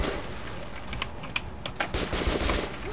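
A machine gun in Metro 2033 Redux fires on its own as its dying holder keeps the trigger down, giving scattered sharp bursts of shots over a background of game noise.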